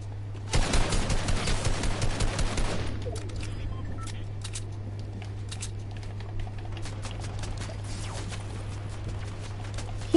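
Gunfire in a Fortnite match, a rapid burst of rhythmic automatic shots lasting about two seconds, followed by scattered fainter pops and clicks over a steady hum.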